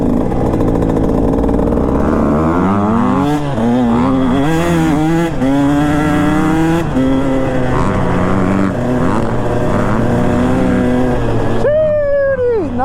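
A two-stroke dirt bike revs hard and launches off a jump, its loud, buzzy engine pitch climbing and wavering repeatedly before a sharp final rev, close and dominant with no speech.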